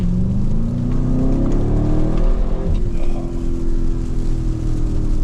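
A 2024 Audi RS7 accelerates hard, its engine note rising steadily in pitch as it pulls, loud and continuous from inside the cabin with a brief dip partway through.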